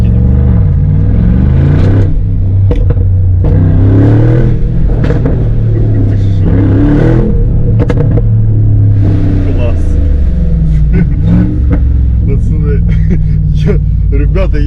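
A loud engine of a 2022 Mercedes G63 4x4 Squared off-road SUV revs and roars up and down repeatedly, rumbling close by with clattering bumps, as though driving over rough ground.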